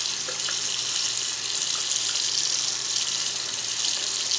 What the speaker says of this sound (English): you want to just turn the water on, get your brush, and then you wet the tips